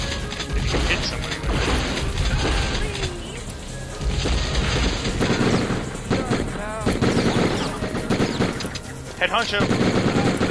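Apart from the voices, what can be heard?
rocket explosion in the video game Die Hard Trilogy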